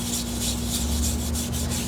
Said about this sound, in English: So now I'm going to scrub.